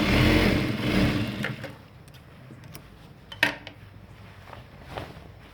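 A sewing machine stitches over the elastic waistband of a pair of ladies' pants, a close whirring run in the opening two seconds that then stops, leaving a few soft clicks and handling sounds.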